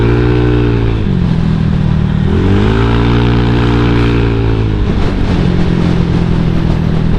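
A modified scooter-style motorcycle with a small pulley engine revs loud and close, its tone rising and falling through several acceleration pulls with brief dips between them, and no talk over it.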